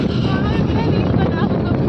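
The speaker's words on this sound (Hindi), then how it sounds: "बहुत खतरनाक वाली हवा चल रही है अभी" Strong wind roars on a mountain road on the way to Manali, a loud, constant broadband rush with gusty buffeting on the microphone, heard steadily throughout the short stretch.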